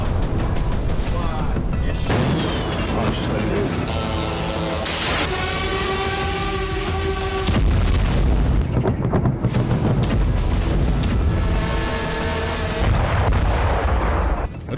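Heavy booms and artillery fire from Russian attacks on Ukrainian cities rumble in loud bursts, with rolling blasts and a whistling whine between them, close and harsh.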